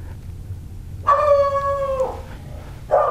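A dog lets out a single sustained howl lasting about a second, clear and fairly close over a quiet background, followed shortly by a brief yip.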